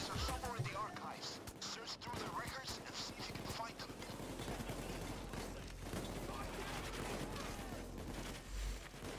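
Sniper fire and bursts of gunfire in a heist video game, loud and dense over a constant rumble of game noise, with a person talking over it.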